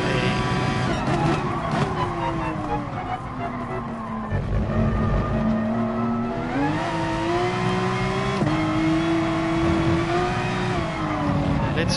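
Race car engine in GT Sport, revving and shifting through gears with rising and falling pitch, tires squealing as the car slides at the limit, loud and close throughout.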